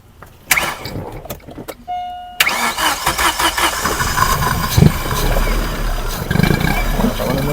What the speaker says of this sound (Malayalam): നമുക്കൊന്നുകൂടെ സ്റ്റാർട്ട് ചെയ്ത് നോക്കാം